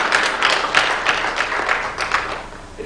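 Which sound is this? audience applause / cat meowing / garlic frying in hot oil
audience applause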